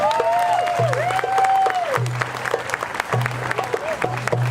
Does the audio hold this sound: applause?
yes